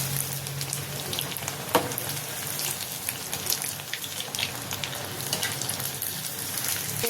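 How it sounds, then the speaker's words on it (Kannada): Boneless fish kabab pieces frying in oil, a steady close crackle and sizzle with scattered sharp pops throughout, no voices. "ಈಗ ನೋಡಿ ಚೆನ್ನಾಗಿ ಈಗ ಫ್ರೈ ಆಗಿದೆ"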